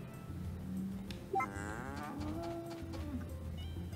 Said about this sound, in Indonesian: Nih si sapi.